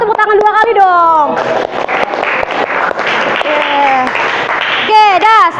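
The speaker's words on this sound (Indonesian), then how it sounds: "Kalau seru tepuk tangan 2 kali dong." A class of children claps in a loud burst of applause that fills the room, with children's voices shouting and chattering over and around the clapping.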